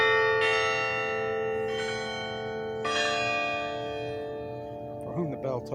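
A church bell tolls three times, each strike ringing out with a long, slowly fading hum that overlaps the next; faint voices stir near the end.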